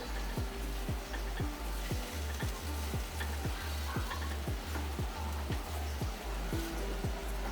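Grated carrots being stirred with sugar in a pan, a quiet bed of sizzle broken by regular, rhythmic scraping strokes of a spoon, about two per second, close up.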